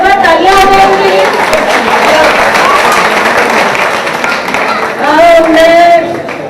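An audience at the Sanjivni Eye Care Center tenth anniversary event in Ambala claps for Jasbir ji, a steady wash of applause lasting several seconds, with voices speaking over the start and end.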